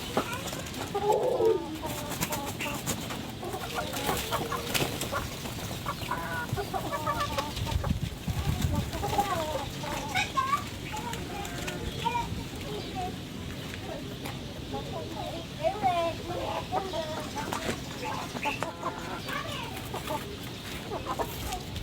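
Fancy pigeons pecking at feed on the ground, giving scattered soft taps among bird cooing and clucking from nearby fowl, with a steady busy background and talk throughout.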